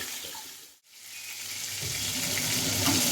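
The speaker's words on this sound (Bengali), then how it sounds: "এই তেলেই এই যে গোটা গরম মশলা এর মধ্যে এলাচ দারচিনি আর লবঙ্গ রয়েছে আমি গোটা গরম মশলার ফোড়ন দিই" Whole garam masala of cardamom, cinnamon and cloves hitting hot oil in a pan: a brief dip, then a steady bright close sizzle and crackle building and continuing to the end.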